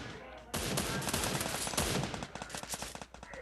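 Rapid gunfire in a video game, a sudden loud burst of automatic shots followed by a stuttering run of quicker bursts, with faint voices behind.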